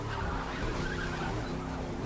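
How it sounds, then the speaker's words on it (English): Car tires squeal and skid continuously over a loud engine in the racing video game The Crew 2, a sustained screeching sound with no voices. "You can hear the wheels squeaking."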